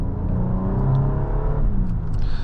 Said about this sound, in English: I just really like that classic Infiniti engine sound that we're able to keep in here